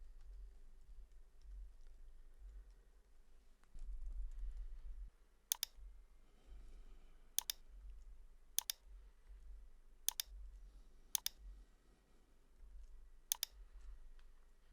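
Keys tapped on a computer keyboard while editing a spreadsheet, six sharp isolated clicks spaced about a second apart over a low steady hum, with no talking.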